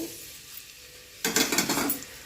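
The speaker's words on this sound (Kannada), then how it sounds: "ಇವಾಗ ಇದಕ್ಕೆ ಕಟ್ ಮಾಡಿಟ್ಕೊಂಡಿರುವಂಥ ಈರುಳ್ಳಿ ಹಾಗೆಯೇ ಕಾಯಿ ಮೆಣಸನ್ನು ಸೇರಿಸ್ತಾ ಇದ್ದೀನಿ" Chopped onion and green chili tipped into a hot pan for tomato bath, a sudden burst of frying hiss with clattering stirs after a quiet start, close and fairly loud.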